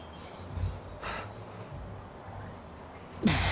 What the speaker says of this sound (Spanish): esa respiración de verdad